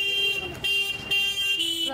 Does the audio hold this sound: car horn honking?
yes